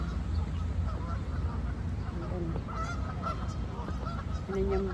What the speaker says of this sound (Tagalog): Ang mga maririnig yung mga sound dito, mga pato